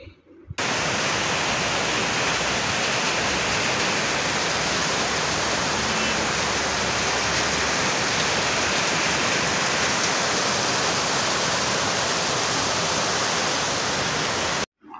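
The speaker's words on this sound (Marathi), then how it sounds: "तर पाऊसही तेवढा जोरात आलेला, आज पावसाला सुरुवात झालेली" Heavy monsoon rain pours down in a dense, loud, unbroken roar that holds steady from start to finish, with no voices over it.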